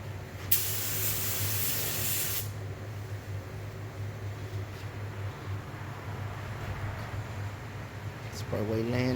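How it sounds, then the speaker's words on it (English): A spray gun lays down pearl paint on a car, a steady loud hiss that bursts brighter for about two seconds, then continues over a constant low hum of the booth, with a voice briefly at the end. "Sprayway laying that pearl down, y'all."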